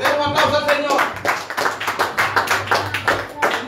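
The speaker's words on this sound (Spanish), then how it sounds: "Den un aplauso al Señor." A church congregation claps in rhythm during a Spanish-language worship service, steady regular beats, near and fairly loud, with a voice calling out over the first part.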